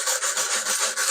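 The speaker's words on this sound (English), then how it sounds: "And more sanding." Steady rasping of sandpaper on the wooden top of a 1966 Framus Texan acoustic guitar, continuous with a few brief strokes pulsing through, close and fairly loud.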